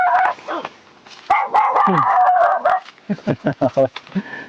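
A guard dog locked inside a house barks in a series of sharp, loud yaps, first in a quick burst and then a rapid run of repeated barks near the end, with people talking in between.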